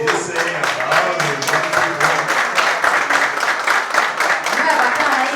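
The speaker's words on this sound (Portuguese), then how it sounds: "Aplausos." Audience applause at a business networking meeting, rhythmic clapping in unison with a steady beat, loud and close throughout.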